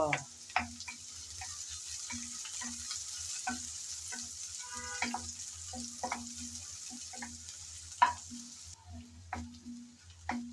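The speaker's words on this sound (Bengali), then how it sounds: "গরম তেলে দিয়ে দিলাম পেঁয়াজ কুচি হালকা করে নেড়ে চেড়ে নেব" Chopped onion frying in hot oil in a pan, a steady sizzle broken by regular scraping strokes of a spatula as it is stirred, close and clear with no talking.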